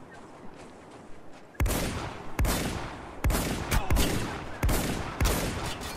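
A Humvee-mounted gun blasts repeatedly in a Spec Ops The Line multiplayer team deathmatch on the Dockside map: half a dozen loud, sharp bursts, each decaying into a rumbling tail, after a quieter stretch.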